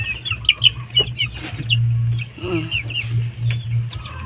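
Several caged chickens cluck and call in short, overlapping bursts at close range, with a steady low hum running underneath throughout.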